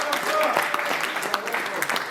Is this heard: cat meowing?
no